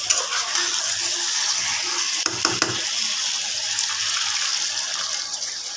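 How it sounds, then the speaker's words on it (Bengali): Water poured into a pan of simmering chicken curry sets off a steady, close hiss and sizzle that holds for several seconds, with faint clinks partway through. "এবার জল দিয়ে দেবো"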